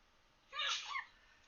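A single short sneeze, faint and quick, stands out against near silence in a quiet indoor setting during a farming game session.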